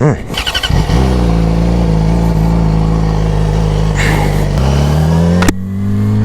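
A Yamaha R6 sport motorcycle engine starts with a few sputtering pulses, then settles into a loud, close, steady idle with a slight pitch change partway through and a sharp click near the end.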